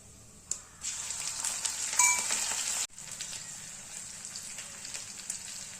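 Mustard seeds, cumin and crushed chili hit hot oil for vada pav, a loud, steady hiss and crackle up close, briefly surging then dropping before settling into a continuous sizzle with no talking.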